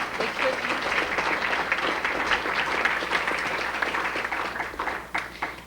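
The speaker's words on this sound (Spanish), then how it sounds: "un aplauso para ellos que están aquí" Applause from a conference audience at a 1999 Latin American Feng Shui congress: sustained, dense clapping from many hands at moderate distance that fades slightly near the end.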